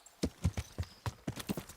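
Horse hooves clip-clop on the ground in a medieval role-playing game, a series of crisp, moderately faint hoofbeats in an uneven walking rhythm with short gaps between them.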